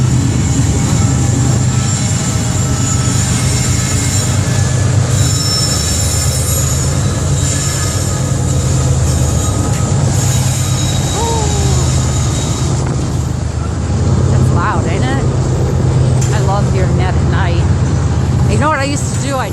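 A train rolls past on a bitterly cold day, a loud, sustained rumble of railcars with metallic wheel squeals that rise and waver in the later part of the passage.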